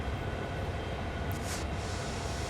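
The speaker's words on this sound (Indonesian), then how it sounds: "Sip, sekarang kita mulai rem." Freight train locomotive braking in the Train Sim World 2 simulator: a steady, dense rumble of rolling stock and air brakes, with a brief high hiss midway and no talking.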